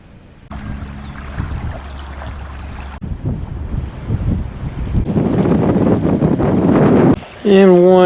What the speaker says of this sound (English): The wind's already got the line really tight.